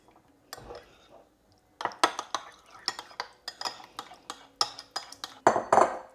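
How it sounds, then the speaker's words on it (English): Natural yogurt, with a teaspoon each of sunflower oil and lemon juice added, is mixed in a bowl: a quick run of close, crisp utensil taps and clinks against the dish, speeding up and growing louder toward the end, with no one talking. "Give it a mix."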